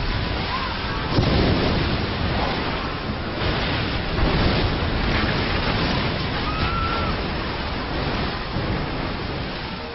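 Giant tsunami waves from the 2004 disaster in a film scene surge and roar in a dense, continuous wash of crashing water and rumbling noise, loud and broadband, with no clear speech.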